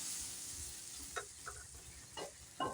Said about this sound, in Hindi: अब हम अदरक लहसुन टमाटर जो हमने पीस कर रखा है वो भून देंगे।